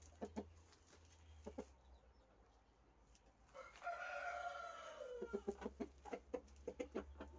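Chickens cluck in short bursts while a rooster lets out one long crow in the middle, at moderate distance with a steady low hum underneath.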